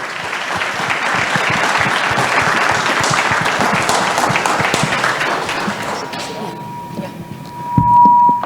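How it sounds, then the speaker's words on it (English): Audience applause for the panelists and moderator at an entrepreneurship clinic launch, a steady dense clapping from a sizable crowd that fades out near the end, followed by a brief tonal beep and a thump. "a round of applause for all the panelists and the moderator"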